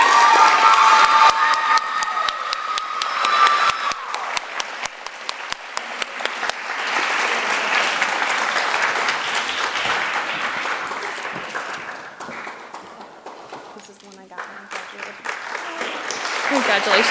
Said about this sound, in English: Please give a round of applause to Nyla Harpold.